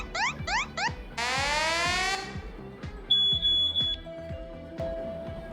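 An NS Panel Pro smart home hub cycles through its alarm types: quick triple bursts of beeps, then a long rising siren sweep, a high warbling chirp and a sustained tone, all clear and close.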